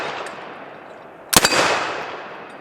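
A single loud shot from a .50 caliber AR-15 rifle with a large muzzle brake, fired at a steel target plate outdoors. A sharp blast and metallic ring follow, then a reverberating decay.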